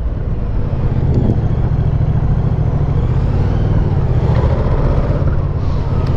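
A Moto Guzzi V100 motorcycle engine, still being run in, heard while riding: a steady, loud, low engine drone with a slight rise and fall in pitch and wind noise, and no talking.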